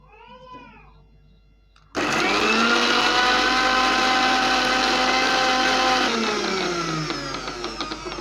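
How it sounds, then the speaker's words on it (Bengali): An electric blender pureeing chopped apple pieces for a cake batter switches on abruptly with a loud, steady whirring drone that holds for several seconds, then winds down, following a brief faint animal-like cry beforehand. "এখন আপেলগুলোকে পেস্ট করব।"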